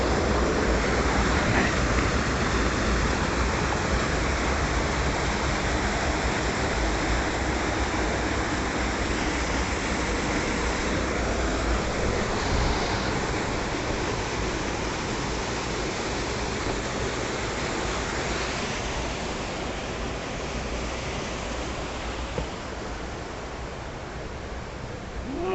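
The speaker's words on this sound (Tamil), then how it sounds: "அருவி மாதிரி கொட்டுது." Water pouring down a rocky slope like a small waterfall at a hill temple site, a steady loud rushing roar that fills the whole stretch without a break.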